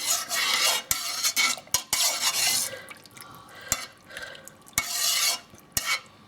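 A Wiltons food colouring dye bath being stirred, with continuous close watery swishing and sloshing in bursts and several sharp clicks of the utensil knocking against the container.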